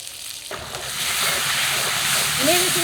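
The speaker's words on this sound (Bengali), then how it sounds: "কষিয়ে নিই টমেটোর সাথে" Fresh tomatoes stirred into cooked spice paste in a hot kadai, a steady close sizzle with scraping of a spatula that builds after a brief knock.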